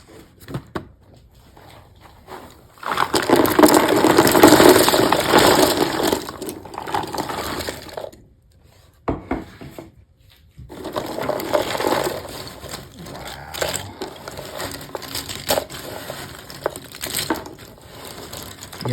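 Jigsaw puzzle pieces from a glittery limited-edition Springbok puzzle rattling and clattering in a box, with bursts of dense plastic-cardboard shuffling that pause and resume, fairly close, no voices.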